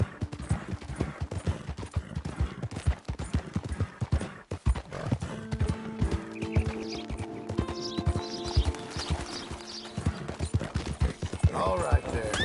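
Hoofbeats of a horse clip-clopping along at a steady gallop in Red Dead Redemption 2, with an occasional whinny, game music, and a voice talking over it.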